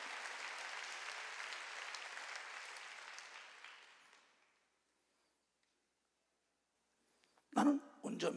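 A church congregation claps during a worship service, a dense, even wash of applause that fades out over about four seconds into near silence, followed by a couple of brief louder noises at the end.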